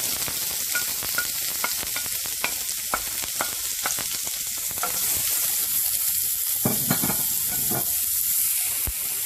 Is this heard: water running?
no